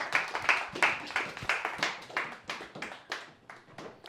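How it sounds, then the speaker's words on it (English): Small audience at a card magic show claps for a volunteer, a modest run of distinct, fairly close hand claps that gradually thins and fades, with no talking. "round of applause, round of applause"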